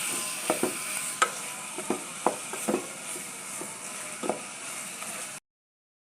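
Tomatoes frying in a pot for Algerian soup give a soft, steady sizzle broken by irregular stirring clicks and scrapes, and the sound cuts off abruptly near the end. No voices.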